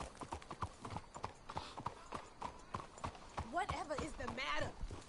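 Horse hooves clip-clop at a steady walking rhythm in the Red Dead Redemption 2 video game, close and fairly quiet, while characters talk over the footfalls.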